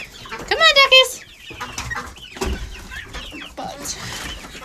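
Ducks quack nearby, starting with a loud burst of calls, then quieter scattered quacks and squawks.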